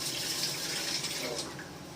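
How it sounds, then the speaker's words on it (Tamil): Water is poured from a vessel onto rock salt to dissolve it for chapati dough, a soft, steady splashing trickle lasting a couple of seconds at close range. "தண்ணியை ஊற்றி நல்லா கரைய விட்டுறணும்."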